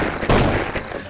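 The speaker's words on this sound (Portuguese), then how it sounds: "Ele tá dando tiro de canhão." In a free browser shooter modeled on CS:GO, a single heavy cannon-like gunshot booms close and loud, with a short rumbling tail.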